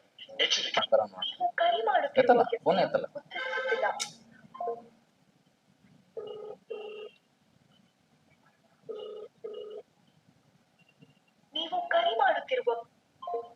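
An unanswered call to a town panchayat chief officer produces a phone ringback tone in paired bursts, heard twice with long silent gaps between them, while someone speaks before and after.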